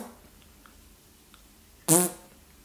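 A voice makes a short, loud, buzzing imitation of a fart, one brief burst after a near-silent stretch.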